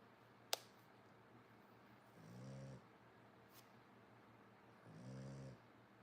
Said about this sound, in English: He is snoring away.